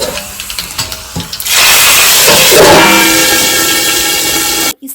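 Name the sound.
garlic and red chili tempering sizzling in oil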